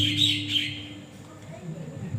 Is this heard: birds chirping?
yes